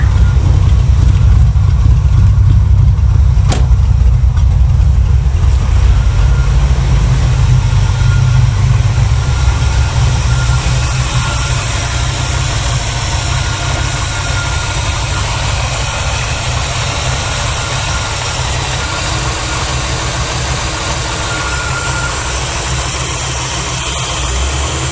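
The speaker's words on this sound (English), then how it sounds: "Might need to set the idle up a little bit on it. Looks like it wants to die." A 1981 Chevrolet Malibu Classic barn find idles roughly just after its first start in years, a loud, low, uneven rumble close by that sags in level partway through as if the engine wants to stall.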